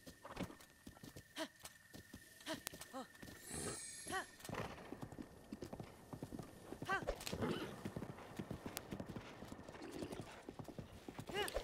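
A horse gallops in The Legend of Zelda: Breath of the Wild on Master Mode, with rhythmic hoof clip-clops, a whinny and snorts, close and fairly loud while a person talks over it.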